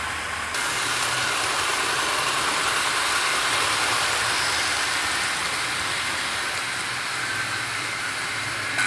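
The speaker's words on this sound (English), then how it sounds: "Express passenger locomotive, of course." A model train locomotive runs along its track, a steady, fairly faint rushing rumble with continuous wheel noise and no pauses.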